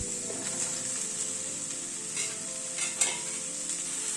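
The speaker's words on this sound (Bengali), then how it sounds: "নুন হলুদ দিয়ে সব সবজিগুলোকে একটুখানি ফ্রাই করে নেবো" Chopped vegetables with salt and turmeric fry in a pan for a bottle-gourd leaf curry, a steady close sizzle with occasional stirring scrapes.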